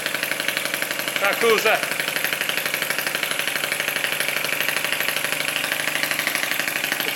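A Lister D model engine running steadily at fairly high RPM, with a loud, even, rapid chugging beat up close and a person speaking briefly over it.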